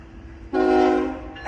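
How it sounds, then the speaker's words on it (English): A westbound CSX mixed freight train passes nearby with a low rumble, then a loud sustained horn blast sounds over the rolling noise. "westbound mixed freight train"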